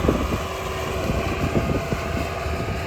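A YTO EX 804 tractor pulling a KPA 4 cultivator across a garden plot gives a steady low engine drone, with wind buffeting the microphone throughout and no speech.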